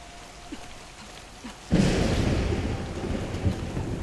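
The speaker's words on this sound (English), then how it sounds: "What was that? Thunderstorm." A thunderstorm in Horizon Forbidden West breaks in suddenly after a near-silent opening, a loud rumbling roll of thunder with rain-like wash that holds steady and dense to the end.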